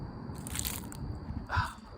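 A crunchy dry leaf is stepped on outdoors during a walk, giving a single close, crisp crackle burst against a steady background of ambient noise.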